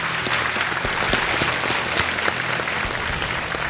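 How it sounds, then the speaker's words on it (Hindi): A studio audience claps to welcome a quiz show contestant, a loud, dense and continuous burst of applause filling the whole moment without pause. "तालियों के साथ एक बार आपका स्वागत कर रहे हैं।"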